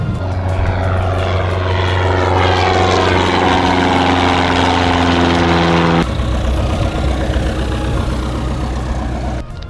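Propeller aircraft engine running at Hicks Airfield in Fort Worth, a loud steady droning hum with a throbbing prop beat, heard close up and continuous from inside or beside the plane.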